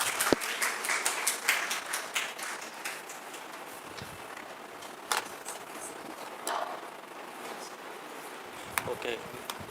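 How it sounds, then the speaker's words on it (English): Light applause from an audience at a valedictory function, scattered claps in a room with crowd murmur and talking underneath, fairly faint and uneven. "A big round of applause to Dr. Zain"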